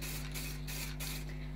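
Paint hisses from a spray can in a few short bursts over a steady low mains hum while a plywood crook is sprayed, close and fairly quiet with no talk.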